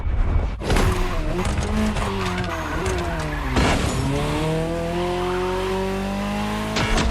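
A Ferrari sports car, a special version of the 308 GTS, races in The Crew Motorfest: the engine climbs in pitch through several gear changes, drops on each shift, then winds up again in a long, steady pull.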